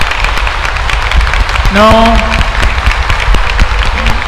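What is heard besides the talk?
audience giving a loud clap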